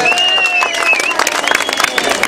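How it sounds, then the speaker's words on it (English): An outdoor crowd gathered outside the gates of Parliament in South Africa claps and cheers, brief loose applause with a voice or two ringing out over it, fading into scattered claps. "So give yourselves a warm round of applause."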